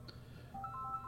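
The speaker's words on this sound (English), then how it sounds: "I hear a door ringing somewhere." A doorbell chimes somewhere off in the distance, a short pair of thin electronic tones rising out of a quiet background hum.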